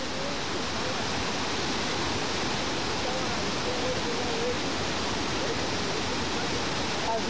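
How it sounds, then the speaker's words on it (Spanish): A fast, high-volume river rushes steadily and loudly, a dense broadband roar that holds throughout with no break. "el caudal del río es bastante grande"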